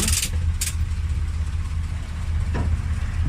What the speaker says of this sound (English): idles nice and smooth